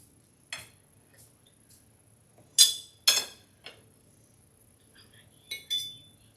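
Cutlery cuts a tiny piece from an Oreo cake, producing a handful of sharp, close metallic clinks and taps against a plate, spaced irregularly over near silence.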